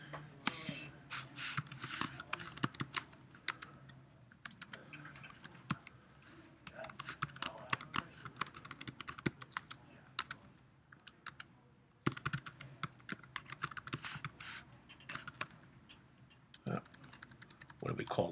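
Code being typed on a computer keyboard during a guessing game, with rapid, irregular clusters of close key clicks running steadily throughout, broken by short pauses.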